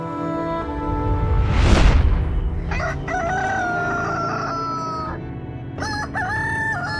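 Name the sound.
rooster crowing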